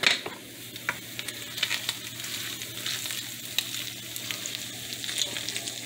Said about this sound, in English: I got to turn the heat up and cook these